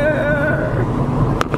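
Wind roars through the open windows of a moving car on a hot day, a steady buffeting rumble with a couple of brief sharp gusts at the end.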